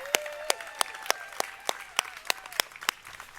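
Applause for a community band at an outdoor fountain dedication in a park: crisp, regular claps close by in a steady beat over a thin, softer crowd background.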